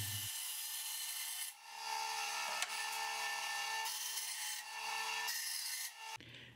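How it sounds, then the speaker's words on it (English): A bandsaw cuts plexiglass pieces against its fence, giving a steady, close, rasping whine that dips briefly between passes. "I used the bandsaw to cut the plexiglass."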